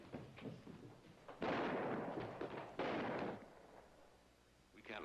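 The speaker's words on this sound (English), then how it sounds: "somebody shooting rats around the barn." Gunfire from somebody shooting rats around a ranch barn: a couple of loud, booming bursts, each with a long rumbling tail, heard over a dull background with talk-like sound early on.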